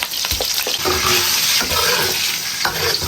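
Water poured into a hot wok of stir-fried scallion, ginger, garlic and spices with chili oil for a lamb trotter hotpot, a loud rushing hiss and sizzle that holds steady with a few clinks.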